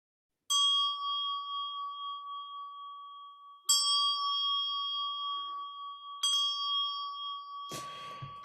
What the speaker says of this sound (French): j'utilise également un objet que j'aime beaucoup, c'est la cloche tibétaine